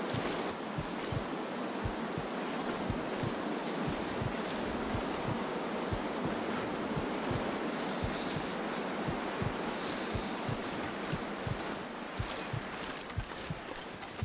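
Wind in The Long Dark, a wintry open-world survival game, roars steadily and loudly throughout with constant gusting rush and faint rhythmic buffeting, no voices.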